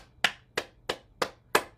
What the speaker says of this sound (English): Let's continue with clapping our hands